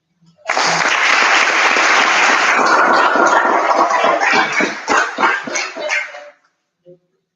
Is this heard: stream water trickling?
no